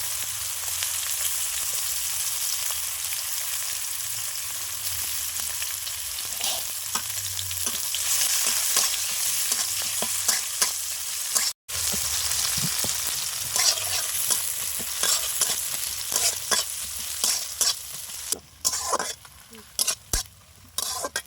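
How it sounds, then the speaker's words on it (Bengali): Chopped onion fries in a pan with cardamom, a steady, close sizzle that runs throughout, broken by frequent stirring scrapes and sharper clatters of a utensil toward the end. "পেঁয়াজটা আমার ভাজা হয়ে এসছে।"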